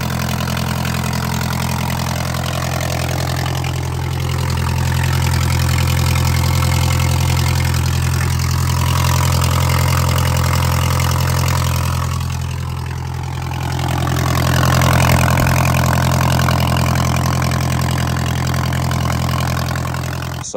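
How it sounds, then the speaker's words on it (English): An Audi TT engine idles with a leaking turbo gasket, giving a steady low rumbling drone close by with slight rises and dips in intensity, no voices. "I think the gasket on the turbo's gone, so it sounds like a tractor."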